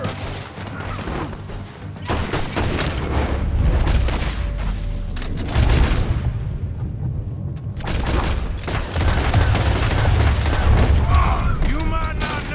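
Gunfire and explosions in the Western action game Red Dead Redemption 2, loud dense volleys of shots and booming blasts continuing throughout with a shouted voice mixed in.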